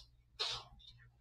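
A single sharp sneeze bursts out close by in a quiet classroom, brief and breathy over a low steady hum.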